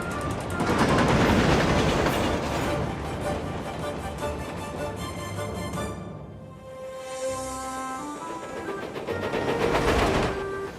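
Cartoon steam engine Thomas puffs hard along the track, rhythmic chuffing and clattering with steam hiss, loud at first, easing midway, then building again, with musical tones underneath and no speech.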